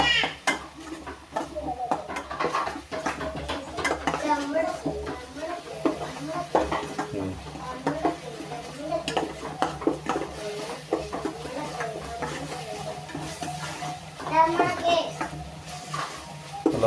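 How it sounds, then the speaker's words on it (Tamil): Cumin paste sautés in a pan for crab rasam as a spoon stirs and scrapes the metal with repeated clinks, under light sizzling, while people talk throughout. "சீரகம் பேஸ்ட்டை அதில் கொட்டி நல்லா வதக்கிக்கோங்க."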